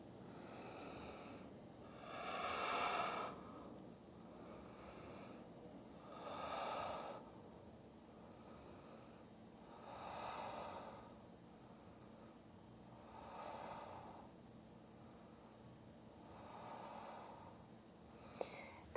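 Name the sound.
person breathing during yoga pose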